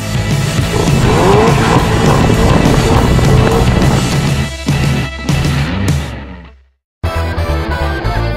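The most powerful Seat ever built, a high-performance car on Michelin Pilot Sport Cup 2 tires, drives hard with a loud engine roar, tire noise and gear changes before cutting to a brief silence and resuming.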